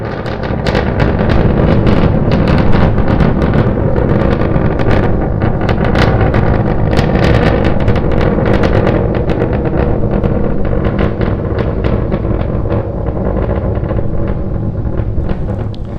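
Starship SN9's rocket engines roar during its climb on a high-altitude test flight, a loud, continuous broadband rumble with crackling bursts and wind buffeting that stays steady throughout.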